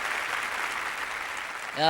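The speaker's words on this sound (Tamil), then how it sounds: "பேச்சாளர்களுக்காக ஒரு கைதட்டு கொடுங்க" Studio audience applauding the speakers at a Tamil television debate program: a steady, dense wash of clapping that holds evenly, with a voice starting up just as it ends.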